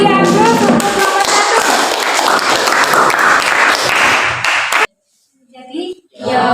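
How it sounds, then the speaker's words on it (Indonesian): Students in a classroom applaud a presenting group after a class presentation, a dense burst of clapping hands lasting several seconds, then stopping abruptly and giving way to a speaking voice. "Kita beri aplaus untuk kelompok"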